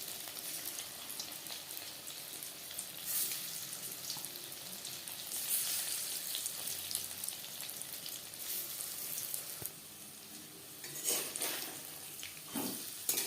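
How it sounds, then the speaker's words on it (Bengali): Vegetarian cauliflower pakoras deep fry in hot oil over a medium flame, giving a quiet, continuous bubbling sizzle with occasional clinks of a utensil, close by and without speech. "পাকোড়াগুলো ভাজবো"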